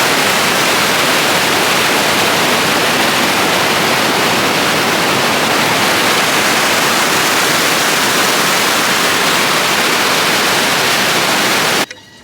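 Waterfall on the Pakse loop in Laos, a loud, steady broadband roar of falling water filling the whole stretch without a break, cutting off abruptly at the very end.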